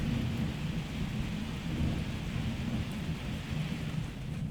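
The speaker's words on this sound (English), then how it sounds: "And it's also cold, and it's raining, and it's making thunder." In the survival video game Cataclysm: DDA, steady rain hisses continuously in a cold storm. Low, rolling thunder rumbles underneath at a fairly constant loudness, with no voices present.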